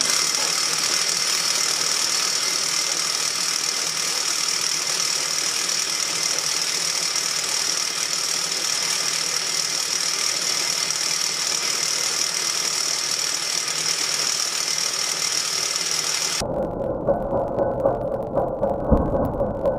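Sewing machine bobbin winder spinning thread onto a bobbin with a steady high whir that runs for about sixteen seconds, then cuts off, leaving a lower mechanical hum.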